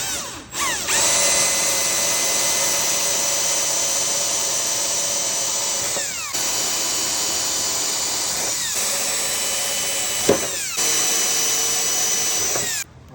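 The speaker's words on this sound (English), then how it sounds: "I just got a small drill bit here just to create a little bit of a pilot hole" A power drill with a 1/8 inch bit bores a pilot hole for installing a commercial door closer on a storefront glass door frame, a loud steady whine running almost continuously with a few brief pauses and restarts.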